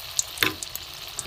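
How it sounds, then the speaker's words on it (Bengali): Cauliflower-stem pakoras in besan and potato batter frying over low heat, with a soft steady sizzle and a few light clinks and stirring taps, close and quiet with no talking. "হালকা আঁচে ভাজতে হবে"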